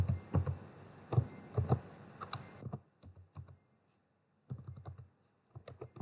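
Keys clatter in irregular bursts of quick clicks on a computer keyboard, with a busier run of typing, a pause of near silence, then two shorter flurries of keystrokes, close and fairly quiet.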